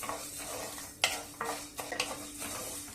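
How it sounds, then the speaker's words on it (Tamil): Mappillai samba rice and another rice roast together in a dry pan, with a faint background sizzle and several scraping, rattling strokes of a spoon stirring the grains. "மாப்பிள்ளை சம்பா அரிசியும் பருப்பு கோணி அரிசி ரெண்டுத்தையும் ஒன்றா போட்டு வறுத்துக்கிறேன்"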